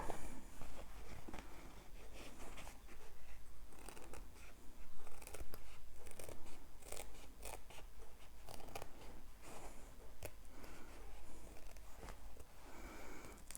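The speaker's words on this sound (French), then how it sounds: "Et là, je vais prendre mes petits ciseaux." Small scissors snipping fabric close to a sewn seam while making a jewelry pouch, a run of quick, close, crisp cuts in irregular bursts with light rustling of cloth between them and no talk.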